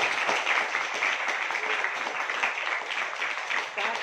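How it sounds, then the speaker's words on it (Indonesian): A crowded hall at a university faculty orientation breaks into steady audience applause, dense clapping that holds at an even, moderate level for several seconds. "Tepuk tangan dulu. Tepuk tangan."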